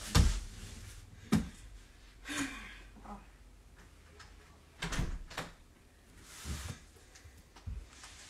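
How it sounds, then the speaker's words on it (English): The front door of a house thuds and bangs several times, with soft muffled knocks and movement in a quiet indoor room. "Front door."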